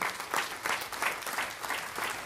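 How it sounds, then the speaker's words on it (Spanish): A church congregation at a Spanish-language service claps for the Lord. The applause is full and fairly close and swells in a loose, rhythmic beat, with regular pulses roughly three times a second. "Denle otro aplauso al Señor, aleluya."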